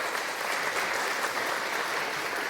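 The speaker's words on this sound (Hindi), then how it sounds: "जोरदार तालियां अतुल जी के लिए।" An audience in a Hindi web series scene gives a round of applause, a steady wash of many hands clapping at moderate loudness, continuous throughout and with no talk over it.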